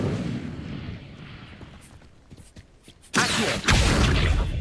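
An Incendio fire spell is cast in a Hogwarts video game, first a rumbling, crackling stretch with scattered pops, then a sudden loud burst of roaring fiery blast that stays strong to the end.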